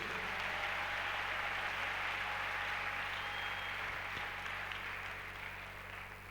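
A church congregation applauding and cheering for Jesus during a deliverance service, a dense, continuous wash of clapping that fades slightly toward the end.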